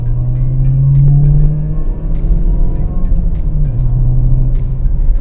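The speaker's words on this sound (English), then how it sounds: "I'm gonna do like a little hard pull." Chevrolet Cobalt SS pulling hard under acceleration, heard from inside as a loud, steady low engine drone that shifts pitch once midway, with no talk.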